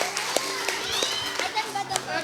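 Congregation clapping during a church worship service, irregular claps and cheering voices mixed with ongoing talk over a low sustained tone.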